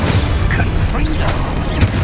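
Confringo fire blast spell in Hogwarts Legacy: a few deep booming bursts, the last one sharper, amid a loud, continuous din of spellcasting, with a voice shouting over it.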